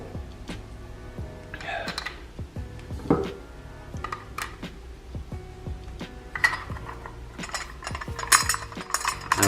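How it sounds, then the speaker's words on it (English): Screws are driven by hand into a plastic tail light bracket on a Suzuki DRZ400SM, giving close, quiet ratcheting clicks and small metallic taps in an irregular rhythm. "So I'm just gonna go through and screw those in."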